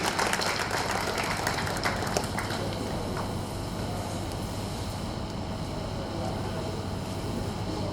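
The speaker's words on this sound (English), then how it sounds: "A round of applause for him, please" Applause from an audience at a Law Week 2024 opening ceremony: a broad, steady clatter of clapping held at moderate level throughout, easing slightly toward the end.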